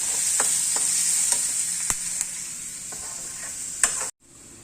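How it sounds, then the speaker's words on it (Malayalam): Onions fry with salt in a pan for a jackfruit curry, a steady close sizzle with occasional sharp taps and scrapes of a spoon, fading slightly before a sudden cut. "അപ്പൊ ആ ഉപ്പിടുമ്പം സവാള വരണ്ടു വരും."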